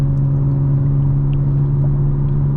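A 2025 BMW M4 Competition is driven gently on a wet road, heard as a steady, close engine drone with a low humming tone inside the car and no speech.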